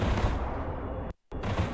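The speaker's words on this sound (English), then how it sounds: "he's firing anti vehicle weapons on me" Anti-vehicle weapons fire in the video game Broken Arrow, a dense, loud barrage of rolling gunfire and blasts that cuts off abruptly for a split second before resuming.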